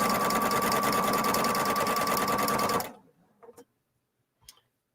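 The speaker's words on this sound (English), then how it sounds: "put your fabric under, begin sewing," A Viking Brilliance 80 sewing machine stitches fabric in a fast, steady whir for about three seconds, then stops abruptly, followed by a few faint clicks and taps in the quiet.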